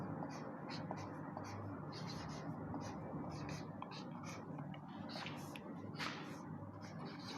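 Pen writing on paper during a Hindi-language Class 10 maths lesson on linear equations, a soft continuous scratching and shuffling close by under a steady low room hum, with no talk.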